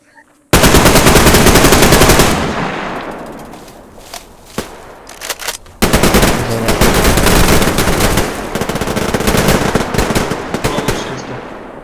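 Airsoft guns fire during a fort battle outdoors, with loud rapid full-auto bursts up close that fade into scattered shots, then a second heavy burst of sustained fire running on with other guns crackling nearby.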